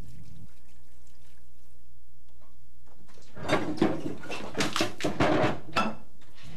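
Water pours from a lab sink tap to rinse a non-corrosive chemical splash off bare skin, a splashing, clattering rush that starts abruptly after a few seconds of quiet hum and runs close and loud to the end.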